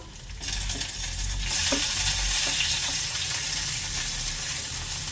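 Chopped capsicum and tomato hit hot oil and ghee in a pan, bursting into a loud, continuous sizzle that swells and holds steady, with a few stirring knocks, close up and without talk.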